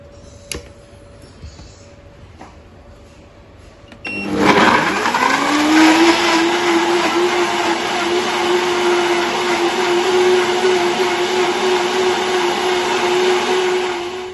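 A kitchen blender starts abruptly and runs loud and steady, its motor whine holding a constant pitch after a quick spin-up, with faint clicks and handling noise before it switches on.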